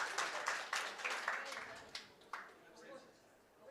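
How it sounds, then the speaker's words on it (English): A meeting audience gives a hospital team a short, faint round of clapping in a quiet room, with a few sharper individual claps standing out before it fades. "Do you want to clap for them?"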